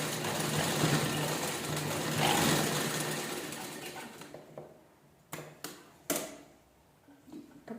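A sewing machine stitches a small pocket in place, a close, steady mechanical whir for about four seconds, then stops, followed by a few sharp clicks and handling knocks.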